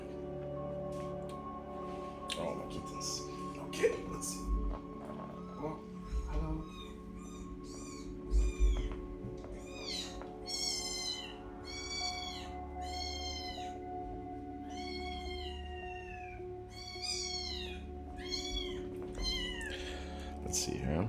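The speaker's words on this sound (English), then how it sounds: "You want to see the cats in the meantime?" Kittens meow repeatedly indoors, a run of high, short cries that grows busier in the second half, over a low steady hum with occasional soft bumps.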